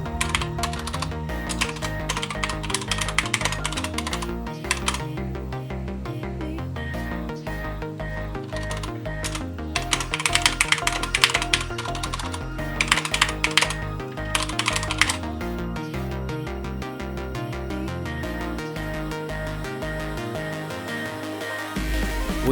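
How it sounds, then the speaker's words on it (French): Keys clatter fast and steadily on a SteelSeries 6Gv2 mechanical keyboard fitted with rubber O-rings. The typing is close and continuous, with short bursts of louder keystrokes. "le bruit des touches arrivant contre le châssis du clavier"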